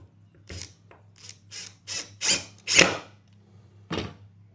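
A drill grinding into rebar during a house build: a series of short, harsh rasping bursts that grow louder and longer, with quiet gaps between them, close by.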